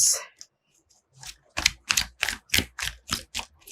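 Tarot cards being shuffled, a rapid series of about eight crisp riffling slaps in a steady rhythm after a brief pause, close and clear with no talking.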